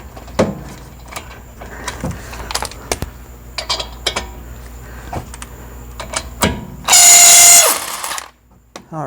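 Brake caliper slider pins on a front axle with rotors and pads being replaced give a loud, sustained squeal as they are drawn out, amid scattered metallic clicks and taps of tool work, close by.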